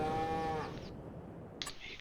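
A Holstein cow in the Farming Simulator 22 video game gives a short, fairly close moo with a clear tonal start, followed by quieter farm ambience and a brief clatter.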